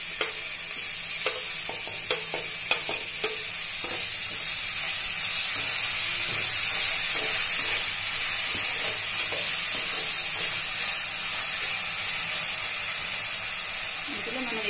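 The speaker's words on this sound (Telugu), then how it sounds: "ఆనియన్స్ వేగినాయి, ఇప్పుడు వెజిటేబుల్స్ వేసేస్తాం అందులో." Chopped vegetables frying with onions in a pan, a steady close sizzle and hiss with occasional stirring clicks and scrapes, while a person talks quietly over it.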